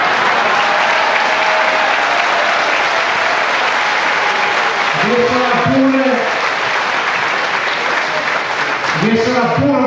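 Crowd applause at a Lega Nord provincial party festival in Treviso, a loud, continuous roar of clapping that persists while someone talks over it in the second half.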